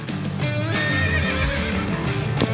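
A horse at a Las Vegas stable gives a loud, close, wavering whinny that rises and falls, with faint hoof sounds underneath.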